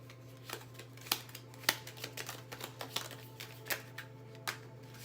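Cards being shuffled for a tea-leaf and card reading, a quiet series of soft riffling flicks and taps at close range over a steady low hum, no voices.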